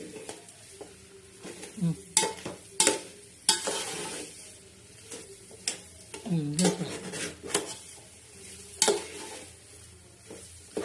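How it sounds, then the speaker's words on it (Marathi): Semolina and sugar stirred in a pan for temple prasad, with a spoon scraping and clinking against the metal in repeated strokes over a soft sizzle, close and fairly loud. "असं मस्तपैकी आता हलावलेला आहे साखर असं मस्त एकदम होत आहे"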